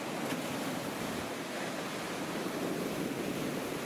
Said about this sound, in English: a short clip showing you the Irish Sea against the North Pier